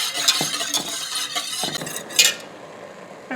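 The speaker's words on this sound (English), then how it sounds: "So, keep stirring this until we get to a good boil." Blackberry jelly is stirred in a pot as it heats toward a boil, with a spoon clinking and scraping against the metal in quick, close strokes over a soft bubbling hiss.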